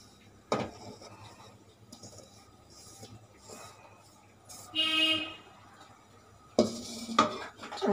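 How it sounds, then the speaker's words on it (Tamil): Ragi dough for puttu goes into an idli steamer lid with a few sharp metallic clanks and scrapes of utensils, separated by quiet stretches. "இப்போ இந்த மாவை நம்ம ஒரு இட்லி அவிக்கிற மூடியில் வந்து ட்ரான்ஸ்ஃபர் பண்ணிடலாம்."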